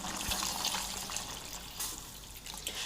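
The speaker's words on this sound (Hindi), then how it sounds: "अब मैं इसमें डालूंगी तकरीबन 2 गिलास पानी" Water, about two glasses, is poured into a pot of beef karahi cooked with yogurt, a steady close splashing gush that runs for the whole few seconds.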